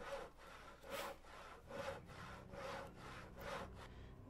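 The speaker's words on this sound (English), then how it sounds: "So you're sitting here over 2 or 3 minutes sawing to get a few planks." Wood planks are sawn in the Stars End video game, five rhythmic back-and-forth rasping strokes roughly a second apart, quiet and steady with no voices.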